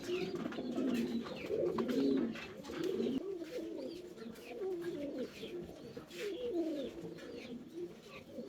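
Two male pigeons coo continuously in low, throaty rolling phrases, close by, with faint chirps in the background.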